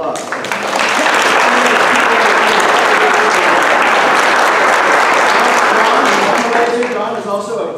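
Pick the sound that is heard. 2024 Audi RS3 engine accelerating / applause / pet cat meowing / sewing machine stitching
applause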